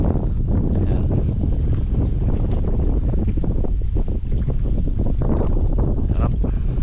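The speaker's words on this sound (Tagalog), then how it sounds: "Tari mo yung hangin" Wind gusts buffeting a boat off the coast of La Union, with Baguio's mountains in view: a steady, loud roar of rushing air and microphone buffeting, continuous from start to finish.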